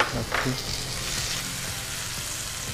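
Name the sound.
tomato frying in masala in a pan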